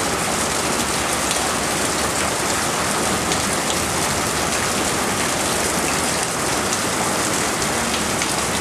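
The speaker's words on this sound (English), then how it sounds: "It's called a downpour." Heavy tropical downpour in Thailand, a dense, steady roar of rain pounding surfaces close by, loud and unbroken throughout with no voices.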